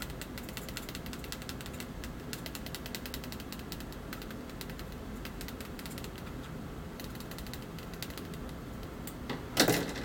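Faint, scratchy scraping and ticking of sharp scissors dragged across the glass screen of a Cherry Mobile Omega HD 2.0 phone, irregular and close, ending in a brief louder rasp.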